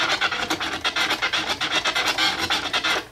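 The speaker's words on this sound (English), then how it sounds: "This is another pattern I like to resort to. Chirp, two-click flare." Turntable scratching in a chirp and two-click flare pattern, rapid rhythmic raspy strokes repeating at an even pace, close and loud with no talking.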